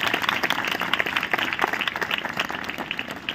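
A church congregation claps loudly in thanks at a spiritual awakening festival, a fast, dense burst of hand claps that stays strong and lively throughout.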